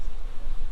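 Honey bees at a hive give off a short, steady, close buzzing drone with no voices over it.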